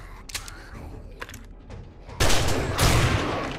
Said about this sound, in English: Switch to the shotgun real quick.